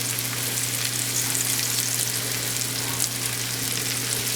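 Sliced garlic sizzles hard in a pan alongside pork chops, a loud, even frying hiss with no talking over it.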